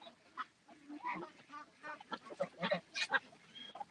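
Geese honk repeatedly in a busy, overlapping chorus of nasal calls, moderately distant and fairly quiet overall.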